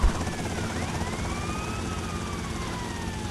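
Police helicopter chasing in GTA Vice City on PS2, a steady whirring rotor drone with a rising and falling siren wail over it, continuous and moderately loud.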